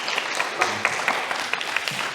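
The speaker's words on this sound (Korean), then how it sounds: "박수로 우리 격려하겠습니다." A Korean church congregation in Berlin claps during Sunday worship to encourage newly appointed members, dense steady applause with distinct sharp claps standing out, no one speaking.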